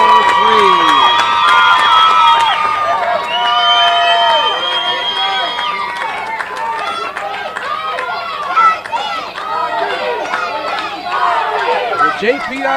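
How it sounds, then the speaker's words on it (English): A baseball crowd at the Dizzy Dean World Series cheers loudly for JPRD against the Miners after an RBI single, a dense roar of shouts and whistles that stays strong throughout, fading slightly toward the end with chatter mixed in. "JPRD crowd is fired up."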